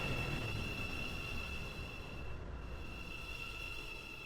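A metro train in the Stepford County Railway video game rolls along with a steady, unbroken rumble and faint high tonal whine, continuous and even throughout.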